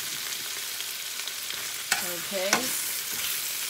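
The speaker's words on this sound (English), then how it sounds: "So we're going to saute this." Spinach sautéing in a pan, a steady soft sizzle with light stirring and a couple of brief clinks from tongs near the middle, while one short spoken word comes at the start.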